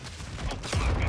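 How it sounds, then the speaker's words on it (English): Missiles fired in Call of Duty: Modern Warfare II, heard as a brief burst of rumbling explosive gunfire that swells over about a second, loud and close. "They're shooting missiles at him."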